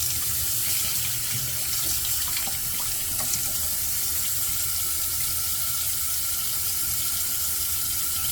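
Tap water runs steadily into a sink for a rinse during a wet shave, a continuous close splashing hiss with no talking.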